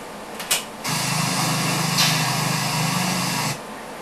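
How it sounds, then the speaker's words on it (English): A thrown object striking a metal container in an amplified, noisy recording: a short knock, then a sustained hissing hum lasting about three seconds before cutting off. "It's almost like somebody threw something and hit possibly like a metal container."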